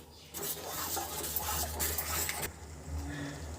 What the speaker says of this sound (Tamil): வெல்லம் சேர்த்து நல்லா கலந்து விடுங்க